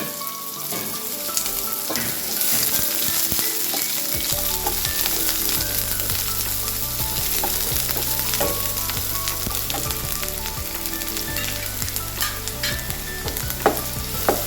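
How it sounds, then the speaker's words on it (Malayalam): Sliced onions sizzle and fry in a pan for a Kerala thattukada-style peas curry, a steady, close crackle with occasional stirring that runs through the whole stretch with no talking. "സവോള നല്ലോണം ഒന്ന് ട്രാൻസ്പെറൻ്റ് ആയാൽ മതി ബ്രൗൺ ഒന്നും ആയിട്ട് ഫ്രൈ ആവണമെന്നില്ല"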